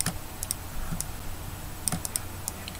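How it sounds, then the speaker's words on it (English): Computer keyboard keys click in quick, uneven runs of typing at close range with a steady faint room hiss behind them. "I'm gonna type it"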